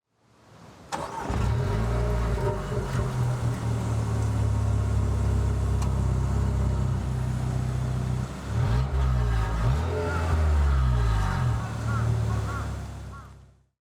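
A new Renault Kangoo Créatif's gasoline engine hums steadily at close range, rising and settling as the vehicle drives, with a brief dip partway through.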